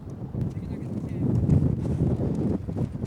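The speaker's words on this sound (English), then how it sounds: "it is very windy" Strong wind buffets the microphone with a low, rumbling roar that swells and fades throughout, outdoors during a long-exposure photo shoot with a Canon 60D.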